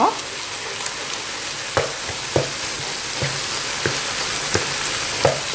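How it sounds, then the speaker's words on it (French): A filling mixed with beaten egg sizzles steadily in a hot pan while a utensil scrapes and taps through it every second or so, with no one talking. "Je la laisse encore 2 minutes sur le feu. En mélangeant constamment."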